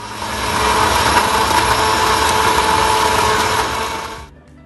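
A kitchen grinder runs continuously at full power, whirring loudly as it grinds chickpeas with salt and olive oil for hummus, then cuts off abruptly near the end.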